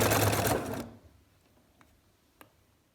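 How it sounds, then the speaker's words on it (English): Sewing machine stitching quilt binding along a chalk line, a dense loud whirring burst for under a second that cuts off, followed by a couple of faint clicks in near silence. "So we're back at the machine, and I'm going to sew this last little bit."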